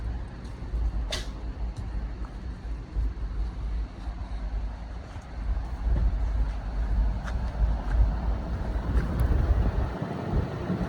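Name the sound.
Pioneer 4-zone mini split unit running, fan spinning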